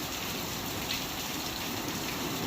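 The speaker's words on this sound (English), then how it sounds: "We've got some really heavy rain coming" Heavy morning rain pours steadily over an outdoor beekeeping yard, a dense continuous hiss of drops drumming on surfaces with no voices, constant and fairly loud throughout.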